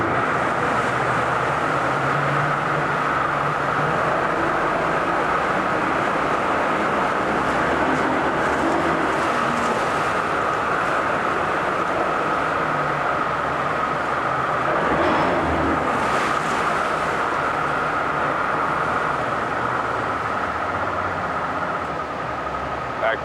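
A 2014 Mercury 200hp outboard boat motor with a 20-inch shaft runs steadily in forward gear, held below full throttle, a constant droning hum with a faint knock midway and voices in the background.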